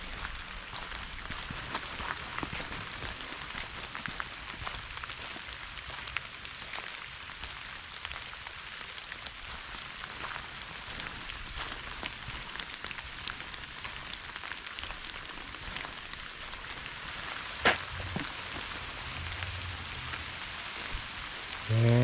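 Steady rain falling on a wooded hiking trail in Browns Branch Loop, a continuous dense hiss of drops on leaves and ground, loud and unbroken throughout.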